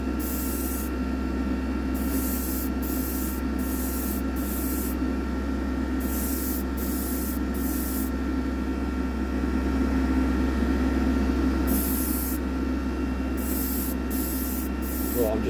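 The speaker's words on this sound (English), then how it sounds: "you can't always see the spray coming out" A paint spray gun hisses inside a spray booth while coating a diecast model vehicle, with a steady close airy rush over a low booth hum, broken by short pauses between passes.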